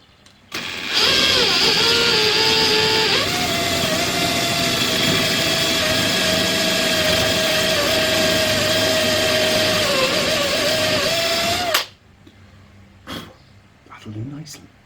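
A power drill bores holes in timber for wooden dowel pins, a loud steady whine running for about eleven seconds with a pitch shift early on, then stopping abruptly into quiet handling noises.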